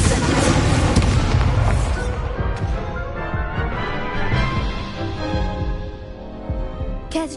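An Incendio fire spell in Hogwarts Legacy bursts with a loud, dense whoosh and boom that rumbles and fades out over several seconds.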